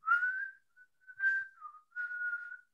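A person whistles a short tune in imitation of a carefree man, three clear melodic phrases with brief gaps, close and fairly quiet, no talking.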